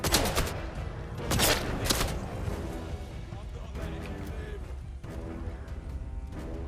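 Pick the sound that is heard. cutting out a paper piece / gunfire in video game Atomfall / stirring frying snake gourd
gunfire in video game Atomfall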